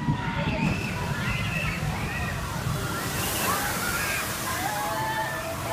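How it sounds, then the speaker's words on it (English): A huge wave of water from a Thorpe Park ride crashes and sloshes close by, a broad, sustained watery roar with faint higher cries mixed in. "Now, is that what I call a splash or what?"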